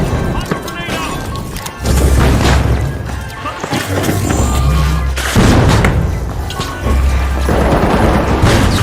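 A frag grenade in The Finals sets off heavy, booming blasts, several deep thuds rolling through a busy, loud game mix with voices talking over the action.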